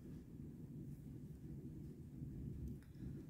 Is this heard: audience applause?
no